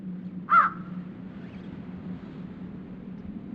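One loud, harsh crow caw sounds out briefly and fairly close, followed by a low steady hum in the background.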